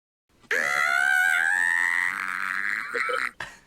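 A loud, sustained shriek from a person on a comedy podcast, rising and wavering for about three seconds before breaking off abruptly, with a brief vocal catch at the end.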